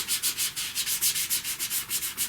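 Black pastel rubbed across paper in quick, even back-and-forth strokes, a close, steady scratchy swish repeating about six times a second.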